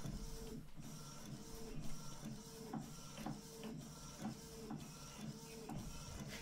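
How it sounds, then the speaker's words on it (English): A Canon Pixma G3430 wireless inkjet printer prints a color photo, producing a steady mechanical whir with regular rhythmic clicks as the carriage shuttles back and forth, close and fairly quiet, with no talking. "showing you how a color photo is printed and how fast it gets out of this printer."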